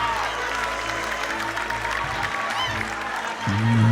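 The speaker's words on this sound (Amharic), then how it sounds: "አጨብጭቡ ለጌታ ክብር።" A church congregation applauding, a dense wash of clapping from a crowd that swells near the end as a low musical tone enters.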